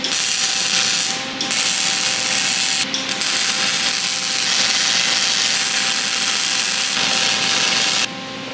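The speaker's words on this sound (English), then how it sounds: "All right, I'm gonna get that welded up." MIG welding on a shrinking die for a DIY power hammer, giving a steady, loud crackling buzz that runs almost continuously, with a couple of brief breaks in the arc and a clear stop near the end.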